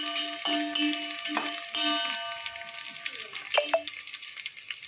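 Onions and green chillies sauté in a pan with a soft sizzle, broken by several distinct clinks and scrapes of a ladle against the vessel.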